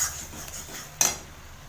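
Spices fry gently in a pan before the meat goes in, a soft low sizzle under a spoon that stirs and scrapes once sharply against the metal.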